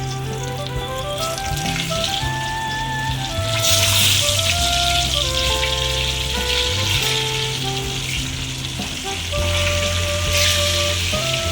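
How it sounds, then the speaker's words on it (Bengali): Chicken pieces in their second, final fry in oil over high flame give a loud, continuous close sizzle with crackling bursts that swell and ease, no voices over it. "চিকেনগুলোকে ফাইনাল ফ্রাই করব সেকেন্ড টাইম।"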